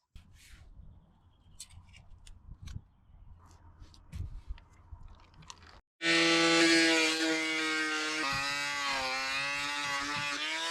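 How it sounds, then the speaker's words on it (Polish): Sanding grinder stripping paint from a boat hull down to bare laminate: quiet clattering and handling at first, then the tool starts with a loud, steady, high whine that holds for several seconds, its pitch dipping briefly as it bites into the surface. "czas to wszystko dookoła wyszlifować, trzeba zebrać tą farbę i dokopać się do żywego laminatu"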